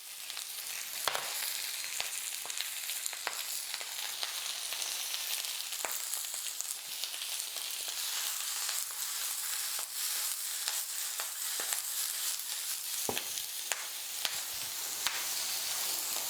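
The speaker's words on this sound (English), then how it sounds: "We're going to pop in a little bit of butter and then our kale." Butter and kale frying in a pan, a steady close sizzle and hiss with scattered sharp crackles and the odd stir or clink throughout, no voices.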